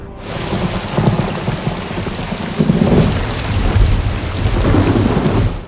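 Heavy rain pours down steadily with a dense hiss and low rumbles of thunder rolling underneath, loud and close throughout.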